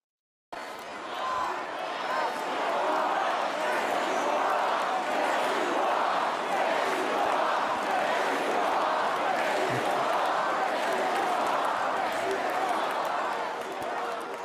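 An arena crowd at a Trump rally roars and cheers in a sustained, dense wash of voices that holds steady for over ten seconds, loud and enveloping.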